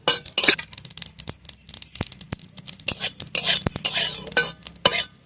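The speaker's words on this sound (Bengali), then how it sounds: "এবার আমি গোটা জিরে একটু ভেজে নেবো" Whole cumin seeds dry-roast in a pan while a spatula stirs them, producing crisp scraping strokes and sharp metallic clinks in an uneven rhythm with a light rustle of seeds.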